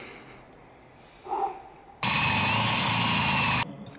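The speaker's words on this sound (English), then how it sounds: "So now, it's time to drill." A power drill fitted with a hole saw bites in for a sustained, loud, steady whine lasting under two seconds, cutting a sink opening during a DIY campervan build, after a quieter handling noise.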